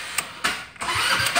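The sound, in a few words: go-kart engine cold start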